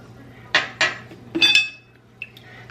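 Oil, honey and other sourdough bread ingredients stirred in a bowl, with a spoon giving a few separate close clinks and scrapes against the bowl over a quiet background.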